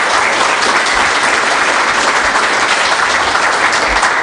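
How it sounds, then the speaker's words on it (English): An audience at a technical conference talk on Ceph storage breaks into loud, steady applause that fills the room evenly from start to finish. "All right. Applause."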